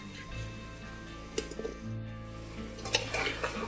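Potatoes are tipped into frying masala in a pan and stirred, with soft sizzling under scraping and a few sharp spoon-on-pan clinks.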